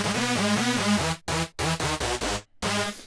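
A fat, thick Melbourne Bounce synth lead in a Showtek-style layered setup plays bouncy, stabbing chord notes, loud and alone, with choppy gaps and short pauses between phrases.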